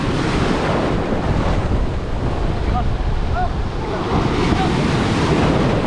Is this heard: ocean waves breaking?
yes